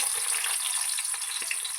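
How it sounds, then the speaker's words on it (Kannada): Steady broadband sizzle of onions frying in hot oil, close and continuous, with a couple of soft stirring knocks. "ಈರುಳ್ಳಿ ಎಲ್ಲನೂ ಚೆನ್ನಾಗಿ ಫ್ರೈ ಮಾಡ್ಕೋಬೇಕು."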